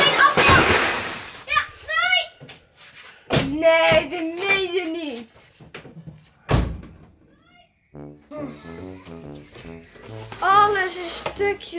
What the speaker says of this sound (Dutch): Alles is stukjes glas.